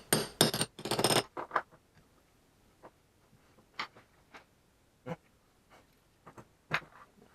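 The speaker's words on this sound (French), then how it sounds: "Hop, on vient prendre notre petite douille. Et on tapote." A small socket tapped to seat a part while rebuilding a moped engine, giving a few loud metallic knocks at the start, then sparse light taps and clicks spread out with quiet gaps.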